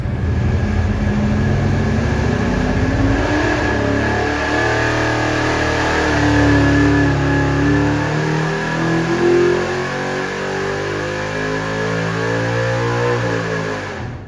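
A small-block Chevy engine fitted with a Victor tunnel ram and a single carburetor roars on a dyno, loud and close, its pitch sweeping up under load and then settling through a sustained high-rpm pull.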